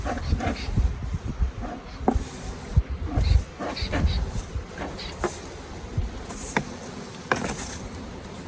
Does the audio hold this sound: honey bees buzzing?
yes